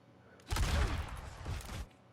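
Exploding projectiles from an Overwatch match burst in a dense, loud cluster lasting just over a second, followed by a couple of softer pops as the barrage fades.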